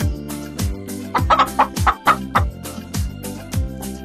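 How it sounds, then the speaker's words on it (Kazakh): A chicken in a children's farm-animal cartoon gives a quick run of clucks over looping, rhythmic cartoon music with a thumping beat. The clucks stay moderately loud and sit mid-mix. "Тауық,"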